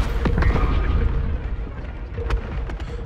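A smoke grenade bursts during a Concord match, a muffled boom followed by low rumbling and scattered sharper pops from gunfire, loud and close in the mix.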